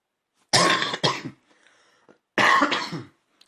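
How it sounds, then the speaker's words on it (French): Two harsh, close coughs, the first a quick double burst, the second a single longer hack after a short pause. "Excusez-moi si vous m'entendez tousser"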